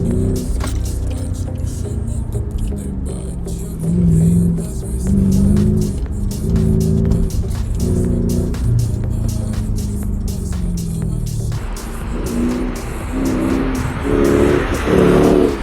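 A 2003 Mercedes E500 sedan accelerating hard, its engine roaring loud and close in rising surges with a few gear-change dips and a brief tire-noise hiss near the end.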